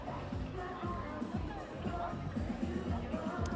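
Crowd of University of Houston basketball fans, families and students of several generations, at an outdoor March Madness watch party, a steady hubbub of many voices babbling together with no single speaker standing out.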